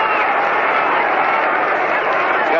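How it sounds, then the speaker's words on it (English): Crowd at a 1937 World Series baseball game between the Yankees and Giants, a steady wash of applause and murmur heard through an old radio broadcast, loud and even throughout. "getting a nice round of applause"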